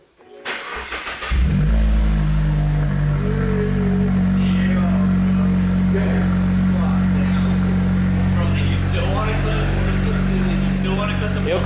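A cold 2022 Mazda3 turbo fitted with a Cork Sport exhaust cranks and fires up, then settles into a loud, steady, deep idle close by, with some talk faintly under the engine.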